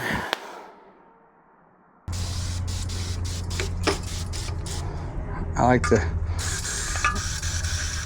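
After a short quiet pause, a close, continuous hiss of aerosol brake cleaner spraying into a KTM motorcycle fork runs for several seconds, with someone speaking briefly over it.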